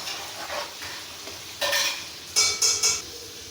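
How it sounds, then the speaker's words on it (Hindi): White korma sautéed in a pan: soft frying hiss with a few sharp scraping and clinking strokes of a spoon against the pan, short bursts close by, no talking. "इसको अच्छी तरह भूनेंगे।"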